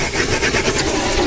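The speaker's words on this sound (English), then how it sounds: "crack on with the dry hoover" A dry vacuum cleaner runs inside a car interior during mobile valeting. It makes a loud, steady broadband whoosh with a rough, rasping texture, close up and with no talk.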